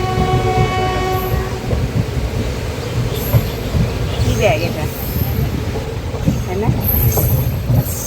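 A train runs steadily with continuous rumbling and rattling, a horn sounding near the start and faint squeals later, while people talk over the noise.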